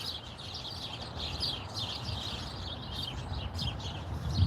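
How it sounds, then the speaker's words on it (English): Many birds in a single tree chirp and tweet continuously nearby over a low outdoor rumble, busy overlapping calls throughout. "listen to all the birds."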